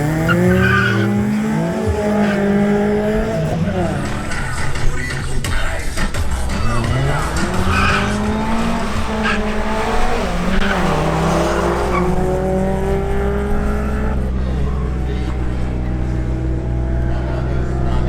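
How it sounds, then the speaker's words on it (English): A Mercedes A45 AMG makes a drag race run, its engine roaring loudly through rising rev sweeps with squealing tires, heard close and sustained throughout. "Up next, Edwin Novoa in his Mercedes A45 AMG makes another run."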